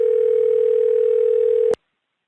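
A steady telephone tone plays on one unbroken pitch for nearly two seconds, then cuts off sharply with a brief click into silence, just ahead of a voicemail message.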